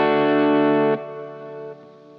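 A sustained electric guitar chord rings through a pedalboard with delay and reverb running in parallel, then cuts to a quieter, thinner tail that fades in steps.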